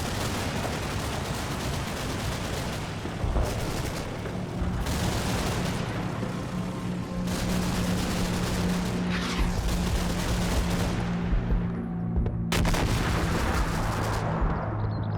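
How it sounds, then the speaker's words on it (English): Machine gun fire pouring into a small hedge in the Normandy war game Combat Mission: Battle for Normandy. The fire is dense and loud, with rattling bursts mixed with heavy booms that carry on almost without pause. "It's a hefty amount of machine gun fire going into that little hedge."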